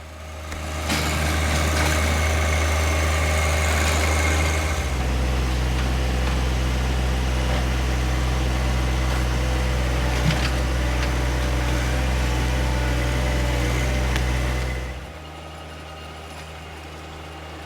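A John Deere 1025R compact tractor's engine rumbles loudly while digging through tree roots, its pitch shifting as it labors under load, then eases back to a lower idle near the end.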